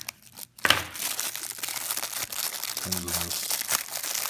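Cellophane bag from vape device packaging crinkling and rustling continuously up close, with someone talking briefly over it.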